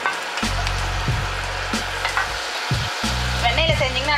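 Butter sizzles in a pan on a stove while fried idli with cheese and chili is made, with soft crackling and a few clunking stirs or taps over the steady fry.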